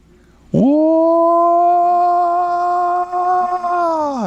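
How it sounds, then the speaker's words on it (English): An alleged Bigfoot howl: a single loud, sustained tonal wail with strong harmonics, starting abruptly and holding steady for nearly four seconds before falling away at the end, heard alone without talk. "What does a Bigfoot howl sound like?"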